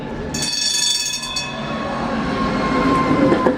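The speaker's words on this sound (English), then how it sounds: "Let's watch this tram go through." A Prague tram rolls through a narrow street, a loud continuous rumble of wheels on rails with high squealing whines at the start and a metallic screech near the end.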